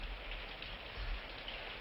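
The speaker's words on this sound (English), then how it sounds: "I haven't seen rain like that since the Kokoda Trail." Rain pours down in a steady, dense hiss that stays even and unbroken throughout the short stretch, fairly quiet and without voices.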